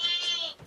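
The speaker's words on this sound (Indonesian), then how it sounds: "Ini pejantan kita, ada kambing sanen." A Saanen buck goat on a breeding farm gives a single short, nasal bleat, close and fairly loud, with no talk over it.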